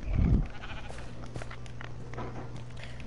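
A sheep in a blocky video game, probably Minecraft, gives a short bleat up front, followed by faint clicking game sounds and a low, quiet background hum.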